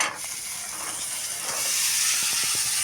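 Fresh green peas tipped into hot oil with fried chillies set off a loud, steady hiss of sizzling that swells slightly toward the end, broken by a few soft stirring knocks.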